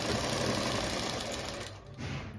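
Close, loud sewing machine running continuously while stitching along the edge of a palazzo pocket, a fast steady mechanical whir that dips briefly near the end and picks back up.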